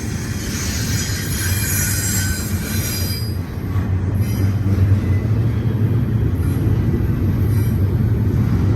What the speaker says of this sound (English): Yeah, train is eastbound. Nice stack of international containers.